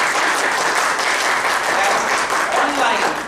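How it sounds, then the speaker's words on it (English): An audience claps at an inaugural and orientation ceremony of a management institute, a loud, dense and continuous applause filling the hall for several seconds, with some voices faintly mixed in. "So give them again one round of applause."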